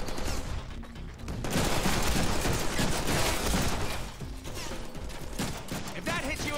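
Sustained gunfire in the Deadpool video game, dense rattling bursts with explosions and chaotic battle noise, loud and continuous throughout, swelling in the middle.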